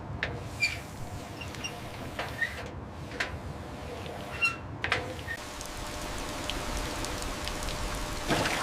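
Steady rain patters and hisses on an abandoned aircraft, with occasional louder drops and faint knocks scattered through the continuous wash.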